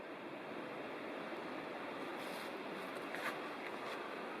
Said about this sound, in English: Here's a beautiful unnamed small waterfall along the route.